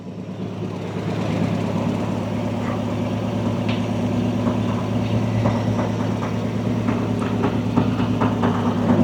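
A Jeep J-10 full-size truck's engine idles steadily and close by, a continuous low rumble with faint clicks and rattles over it, and no talk.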